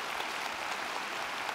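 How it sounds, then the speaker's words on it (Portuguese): Audience applause at a televised church service on Show da Fé, a soft, steady wash of clapping from a congregation, fairly faint and even throughout with no talking over it. "Palmas para Jesus, pessoal."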